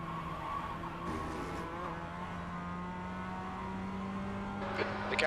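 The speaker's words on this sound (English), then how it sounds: "I'm fumbling around in the dark in an MX-5 at the Nürburgring." Mazda MX-5 race car lapping the Nürburgring at night in the iRacing sim, its engine droning steadily and close with a constant tone, then a brief squeal of tires near the end.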